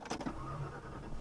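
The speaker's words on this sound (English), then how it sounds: "Just listen to that 5-liter purr, hey?" A 1990 Lincoln Town Car with a 5-liter engine runs at a low, steady idle heard from inside, a soft rumbling hum after a brief mechanical click at the start.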